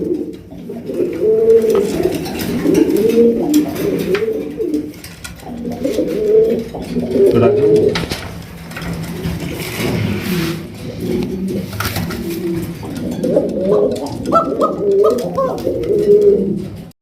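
Fancy black-and-white pigeons coo repeatedly, near and loud, in overlapping rolling calls with brief pauses.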